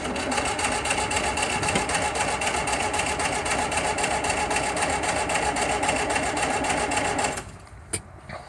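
A freshly rebuilt starter cranks the engine of a 1961 Series II Land Rover, a steady, dense mechanical whirring churn that runs for about seven seconds and then cuts off, followed by a faint click.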